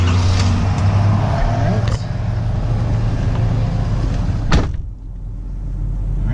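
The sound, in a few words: 2015 Ford F350 truck engine started and warming up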